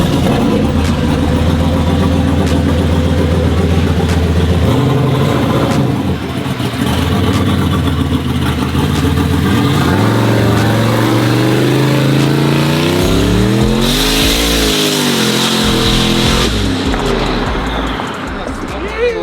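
A big turbocharged SS clone car engine revs loudly and steadily, pitch rising and falling through several pulls, with people talking over it throughout.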